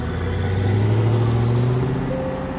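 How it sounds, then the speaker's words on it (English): A car engine revs hard and climbs in pitch as the vehicle accelerates away, loud and close with a steady rising drone throughout. "lead foot stomping on the gas pedal"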